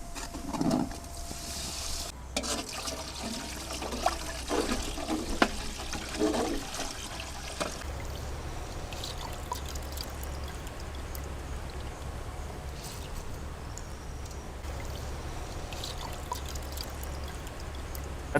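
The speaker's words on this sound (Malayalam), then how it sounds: "നമുക്കിതിലേക്ക് ഇനി വെള്ളം ഒഴിച്ചു കൊടുക്കാം" Water poured steadily into a biryani pot over ginger-garlic paste and spices, a continuous close gushing wash with a brief gap early on, then a lighter steady trickle.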